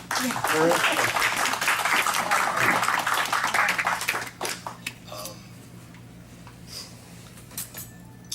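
Applause from a horror convention audience fills the first half, then fades to scattered claps and small clinks as it dies away.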